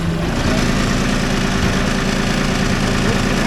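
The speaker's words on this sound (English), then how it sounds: "I'm gonna rev this engine up this way." A heavy engine powering a hydraulic chain machine runs loud and close, a dense, steady low rumble with a vibrating drone.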